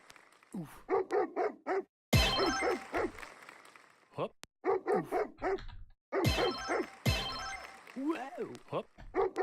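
A dog barks and yips in quick bursts in a video game, a series of sharp, bright barks, while people talk over and between them.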